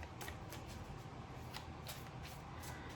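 Tarot cards shuffled and handled by hand in a quiet room, giving a soft, steady papery riffling with faint rhythmic flicks, close and low in level, with no talking.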